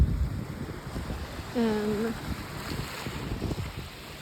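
Adriatic Sea water washing steadily near the microphone, a constant wave and wind noise with a short voice heard briefly over it midway.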